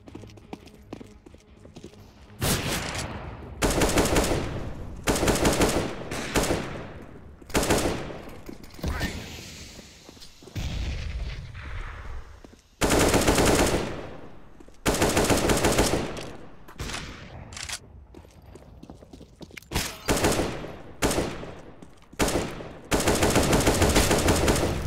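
Repeated bursts of gunfire in Counter-Strike: Global Offensive during a competitive match, loud rapid volleys and single shots separated by short pauses, with a faint voice now and then.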